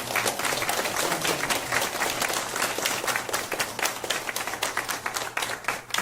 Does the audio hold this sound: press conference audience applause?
yes